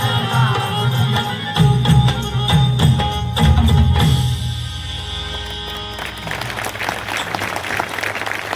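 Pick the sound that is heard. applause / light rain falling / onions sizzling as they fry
applause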